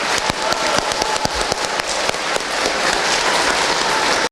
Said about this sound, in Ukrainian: щоб ми оплесками подякували нашим Збройним силам